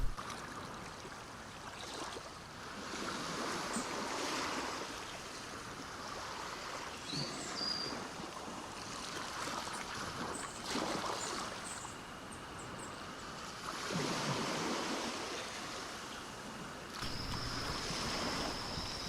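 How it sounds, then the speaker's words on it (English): Ocean surf ambience from the DayZ video game, version 0.62, with waves rolling in slow surges of washing noise over a constant windy hiss, moderately quiet and continuous with no voices. "Here we're hearing some of the new ambient sound for the ocean."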